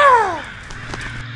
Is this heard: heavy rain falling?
no